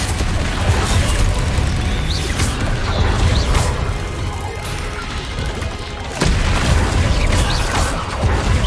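Hogwarts Legacy spell blasts, Confringo and Incendio, as a string of booming magical impacts and crackling bursts with a sharp crash near the middle, layered over continuous game sound.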